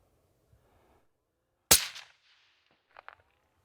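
A single loud rifle shot cracks nearby during a deer hunt in rifle season, echoing briefly, followed by quiet and a couple of faint clicks or rustles.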